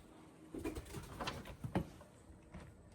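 Pigeons coo in low, throaty bursts at close range over a steady background hiss, with several overlapping calls across a few seconds and no talking.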